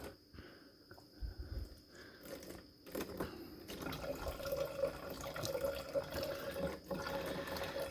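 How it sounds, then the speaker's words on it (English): Wine pouring steadily into a container, a close gurgling trickle that builds and continues for several seconds, with a few handling knocks at the start. "So you gotta try not to pour it too fast."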